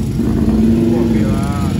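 A Yamaha MT-10 motorcycle with a crossplane engine revving nearby, a loud steady engine drone with a rising tone, with people talking over it.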